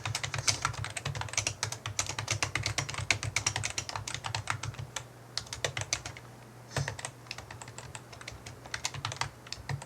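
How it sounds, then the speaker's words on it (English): Rapid, steady typing on a computer keyboard, close and distinct, with dense key clicks that pause briefly midway before resuming, over a low background hum. "You type the question here"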